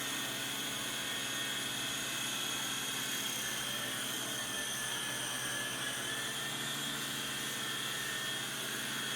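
Syma S39 Raptor RC helicopter flying indoors gives a steady, loud, high-pitched rotor whine and motor buzz that holds unbroken throughout.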